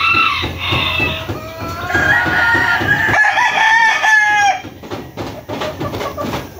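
Several roosters crow loudly in overlapping calls nearby, followed by rapid, repeated clucking and scratchy fowl chatter.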